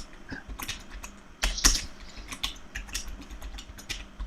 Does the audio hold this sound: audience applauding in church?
no